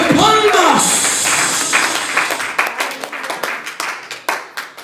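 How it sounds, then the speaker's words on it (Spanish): A church congregation at a Spanish-language worship service bursts into loud, close clapping that follows a raised voice, settling into a scattered, irregular patter of many hands over the final few seconds. "démosle a la familia del cielo una ofrenda de palmas."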